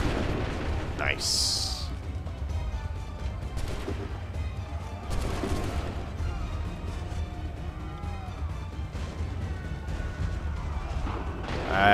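Musket volley fire in the Assassin's Creed 3 battle at North Bridge near Concord, several booming gunshot bursts scattered across the scene amid battle noise, with a person speaking briefly.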